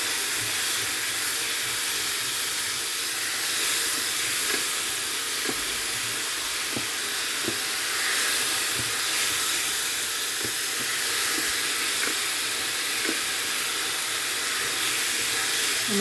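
Vegetables for a Spätzle dish sauté in a pan, giving a continuous even hiss and sizzle with faint occasional ticks, steady and fairly close, no voices.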